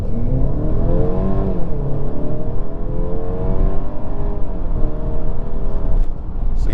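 A 2022 Mercedes C300 4matic accelerating flat out from 0 to 60 mph, with the engine note climbing steadily through several gear changes. The sound is loud and continuous, heard from inside the cabin with no talking.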